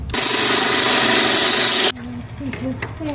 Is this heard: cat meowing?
no